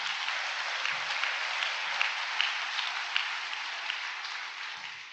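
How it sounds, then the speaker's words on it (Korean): A gathered religious congregation gives sustained applause of encouragement for members praying outside, a steady, moderately distant wash of many hands clapping without talk. "응원의 박수 한번 부탁드립니다."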